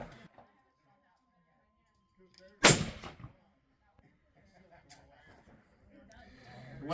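A single loud rifle shot from a 25 Weatherby RPM firing 128-grain ELD-X bullets at a range, a sharp blast with a brief decay, followed by quiet and faint distant voices.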